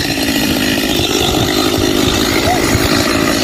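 A chainsaw roars continuously at close range, its engine droning steadily as it cuts through the underside of a large tree.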